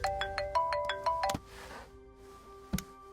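A phone rings for an incoming call, a bright repeating electronic melody of quick rising tones that cuts off after about a second and a half, followed by a soft rustle and a click.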